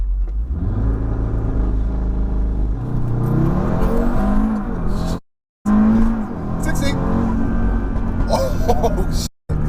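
A tuned 530 bhp Audi RS3 launches hard from a standstill, its loud engine rumble climbing through rising revs with a brief gap at a gear change, while people talk over the noise.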